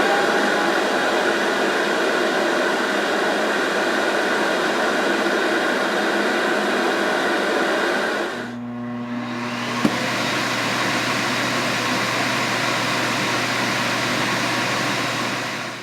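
A Narwhal robot vacuum's base station empties its dust bin with a steady, loud broadband whoosh of suction that runs nearly throughout, briefly dropping and shifting to a lower hum partway before resuming at full strength.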